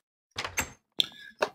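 A wooden door placed in the Minecraft Feed the Beast modpack gives a few short, close knocking taps in quick sequence, sounding alone with no talk over them.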